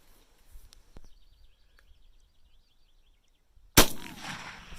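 A Winchester 1892 .357 Magnum lever-action rifle with a 20-inch barrel fires a Hornady XTP 158-grain handload: one sharp, loud report near the end after a long quiet stretch, decaying quickly, with faint chirps earlier.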